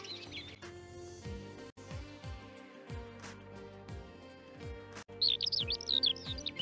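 Starling song, bright chirps and whistles bursting out near the end over steady background music with plucked bass notes.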